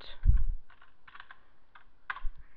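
Typing on a computer keyboard while entering a command into the Windows Run box: a few short bursts of key clicks, close and clear, with brief gaps between them.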